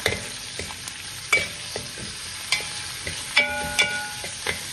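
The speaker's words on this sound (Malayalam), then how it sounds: "ഇതിലേക്ക് ക്യാപ്സിക്കം കൂടി ഞാൻ ചേർത്ത് കൊടുക്കുന്നുണ്ട്. ഇതൊന്ന് സോട്ട് ചെയ്തെടുക്കാം." Capsicum sautéing in a pan for an Arabic madhooth chicken dish, with a steady sizzle broken by a run of sharp spatula clinks and scrapes against the pan, close and fairly loud, no voices.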